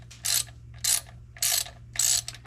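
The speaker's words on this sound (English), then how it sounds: "You just remove these bolts. They're 10mm." A ratchet loosens the 10mm bolts on the automatic transmission pan of a 1999 Subaru Legacy Outback, four evenly spaced bursts of rapid, close clicking separated by short pauses.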